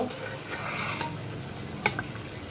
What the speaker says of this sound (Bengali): এখন আমি মাছ দিয়ে দিব